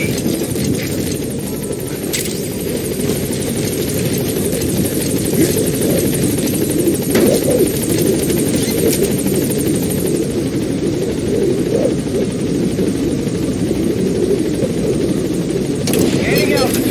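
A helicopter gaining altitude in Metal Gear Solid V: The Phantom Pain, a loud, steady rotor thrum and engine drone, constant and close throughout, under occasional radio-style voices.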